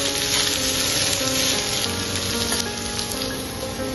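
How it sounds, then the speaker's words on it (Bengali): Vegetables for pasta frying in a pan, a steady broadband sizzle running the whole time, fairly close and even, with faint kitchen clatter and tonal hum underneath. "আমাদের পাস্তার জন্য ভেজিটেবল ভাজা হচ্ছে,"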